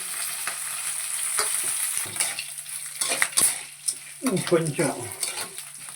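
Slit green chillies and cashews frying in a pan, a close sizzle broken by spoon-and-pan scrapes and clinks, busier stirring toward the end.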